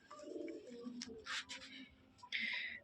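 A giribaz pigeon, a pair kept together, coos softly in short low phrases, with a few sharper calls and a rustle in between. Near and fairly quiet.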